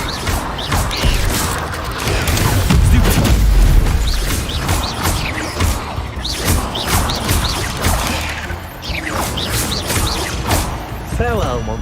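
An Incendio fire spell is cast in the video game Hogwarts Legacy, giving a loud low whooshing boom early on amid clattering combat effects, while voices talk over much of the action.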